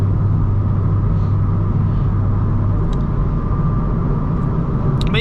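A 2008 Honda Civic Mugen Si on new Michelin Pilot Sport tires cruises along the road, a steady low rumble of engine and tire noise heard from inside the cabin throughout.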